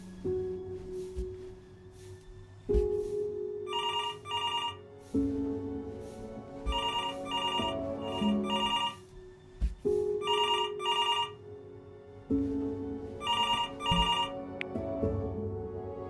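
Telephone ringing in the video game Before Your Eyes, a repeated electronic bell ring in regular bursts over a soft, low musical background, moderately close and clear.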